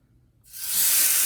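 After a short moment of quiet, a loud hissing sizzle of sauce spooned into a hot pan for rustic penne swells up and holds steady, bright and close.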